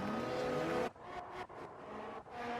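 Engine roar of F1 2020 race cars in a video game, loud and sustained at first, then dropping and fluctuating as cars pass one another at the Australian Grand Prix, with a commentator-style voice faintly in the background.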